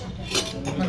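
A spoon scoops ramen noodles at a Korean snack shop in Anguk-dong, giving a few soft clinks and scrapes against the bowl over a busy room murmur.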